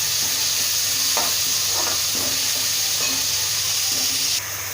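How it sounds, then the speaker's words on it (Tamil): Chopped tomato frying in a pan: a continuous loud sizzle and hiss with several scraping stirs of a utensil against the pan surface. "இப்போ நம்ம கட் பண்ணி வச்சுருக்க தக்காளி போட்டுக்கலாம்."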